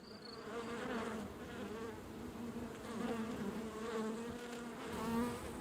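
Honeybees buzz steadily up close, a continuous droning hum that swells and dips slightly in loudness throughout, with no voices present.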